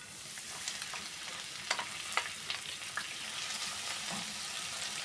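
Potato toasting in a hot frying pan, a steady close sizzle with occasional soft scraping and stirring clicks, no talk over it.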